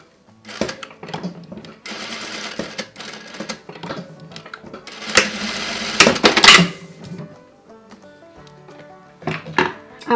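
A sewing machine runs a stitching seam across a wedding veil, loud and close, in bursts of rapid needle clatter broken by short pauses and clunks of handling.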